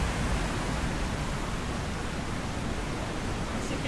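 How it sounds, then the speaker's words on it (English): Nõmmeveski Falls waterfall in Lahemaa, Estonia, a steady broadband rush of falling water, moderately loud and unbroken, with no voices. "Nõmmeveski Falls."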